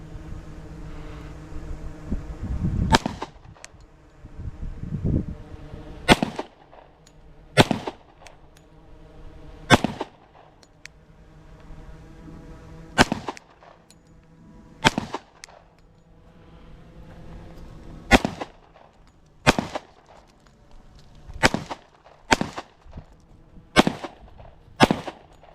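Glock 21 Gen 5 .45 ACP pistol fired one-handed with the left hand, a steady string of sharp, loud shots spaced about a second or two apart, with room-like ringing after each report.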